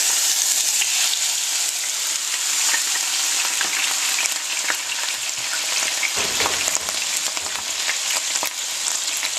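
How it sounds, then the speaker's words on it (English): Canned salmon sizzles and crackles steadily in a hot frying pan, a dense, even frying hiss lasting throughout with occasional louder pops and stirring scrapes. "now I'm going to dump the salmon into the pan"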